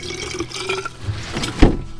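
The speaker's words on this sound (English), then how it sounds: "what you can do is you can put some of your water in here" Water pours and splashes into a plastic glue bottle at close range, a gurgling liquid fill with a sharper splash near the end, with no talking.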